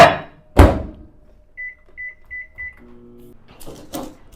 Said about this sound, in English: Back in the microwave for another 30 seconds.